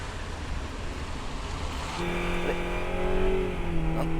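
A 3.5-litre three-row minivan runs at full throttle around the Tsukuba circuit in 2010, a steady engine drone whose pitch climbs as it accelerates, with road and wind rush throughout and no talk.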